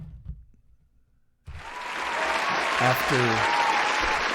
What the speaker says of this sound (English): a round of applause from my thousands and thousands of listeners out there